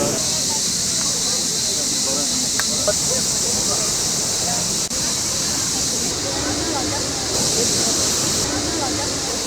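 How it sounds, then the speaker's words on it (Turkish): Manavgat Waterfall in Turkey roars with a steady, loud, continuous rush of water, with faint voices of visitors in the background. "geldik Manavgat Şelalesi'ndeyiz"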